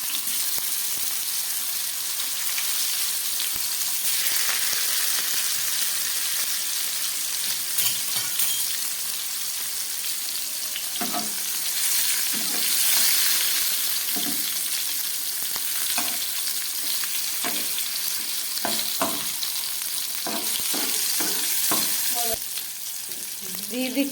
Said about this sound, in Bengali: আর দিয়ে দিচ্ছি কয়েক পিস আলু।